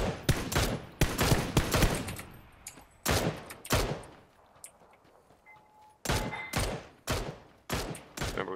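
Gunfire in a shooter video game: loud bursts of rapid shots in clusters separated by brief pauses, sharp and close, with a few single reports between volleys.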